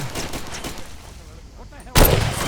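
A single sharp gunshot from the video game Far Cry 2 cracks out suddenly after a stretch of quiet ambient game sound, loud and close, with a brief ringing tail.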